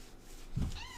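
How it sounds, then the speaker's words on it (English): A single short cat meow, fairly faint, rising then trailing off over quiet background. "Meow. Meow. Meow."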